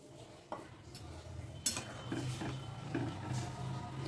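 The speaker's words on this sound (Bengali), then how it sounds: "একটু নাড়িয়ে চাড়িয়ে দিলাম যাতে ডালটা একটার সঙ্গে একটা না লেগে যায়" A spoon stirs washed masoor lentils in a pot of water, giving a few light clinks and scrapes against the pot over a low, steady background hum.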